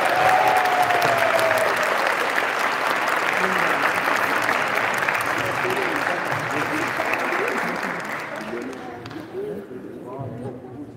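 An audience at a Caucasian association gala night in Kayseri applauds steadily and loudly, with a few voices underneath, and the clapping slowly thins out near the end.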